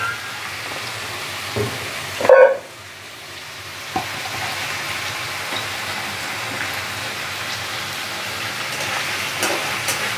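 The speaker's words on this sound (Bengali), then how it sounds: "এইবার আলুটা ভাজতে ভাজতে আমি বিটটাও দিয়ে দিচ্ছি।" Potatoes fry in a little oil with five-spice seasoning while beetroot is tipped into the pan. A loud burst of sizzle rises at the addition, then settles into a steady, moderate frying hiss.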